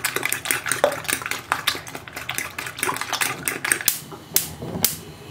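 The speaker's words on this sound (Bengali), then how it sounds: "এবার ডিমটাকে ভালো করে ফেটিয়ে নেবো একদম।" Egg being beaten hard in a bowl for an omelette, a fast irregular clatter of utensil against dish with sharp clicks, close and fairly loud, with no voices.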